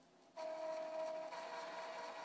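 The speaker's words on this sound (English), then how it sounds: "the printer will actually go through and begin charging the replaced ink cartridge" An Epson Stylus Photo RX595 inkjet printer's motor starts up while charging a replaced ink cartridge, running with a steady whirring hum and a faint tone, close by, continuing without pause.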